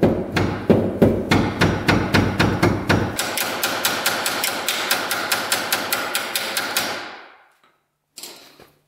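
A hammer taps a cotter pin into the wheel of an Arctic Cat Wildcat 1000, a long, steady run of close, sharp metallic knocks that speed up partway through, then stop, followed by a brief rustle.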